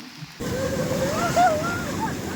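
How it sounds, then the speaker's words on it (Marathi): Rough sea surf at Ganpatipule roars in suddenly and stays loud and continuous, a thick wash of crashing water with a voice faintly audible underneath. "खूप छान एकदम समुद्र एकदम खवळलेला आहे"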